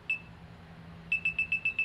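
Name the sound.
Zhiyun Smooth X gimbal gesture-mode countdown beeping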